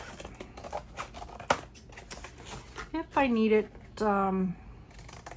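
Scissors cut paper up close for a card journal, a few crisp snipping and crunching strokes in quick succession, with someone speaking over and between the cuts.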